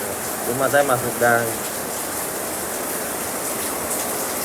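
Steady rain pours down with a broad, even hiss that continues throughout, briefly under a voice talking near the start, then alone.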